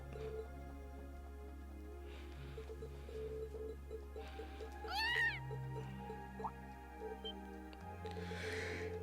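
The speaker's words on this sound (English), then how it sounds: "So that's her cat." A cat meows inside the video game Trails of Cold Steel, several short distinct meows set over steady looping game music and soft sound effects.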